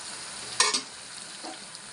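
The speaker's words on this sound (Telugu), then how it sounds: "ఒకసారి జస్ట్ కలుపుదాము" Mullet fish curry stirred briefly in a pan over steady background sizzle, with one short scraping stir near the start and a faint second touch later.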